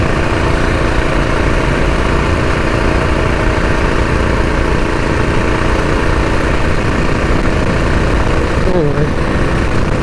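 A Predator 212 engine on a homemade mini bike, a loud, steady, rough drone held under throttle while riding, constant and close throughout.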